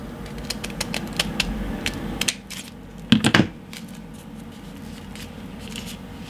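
Scissors cut through folded tissue paper while making paper hydrangea flowers, giving a few close, crisp snips and rustles, with a louder crunching cluster in the middle.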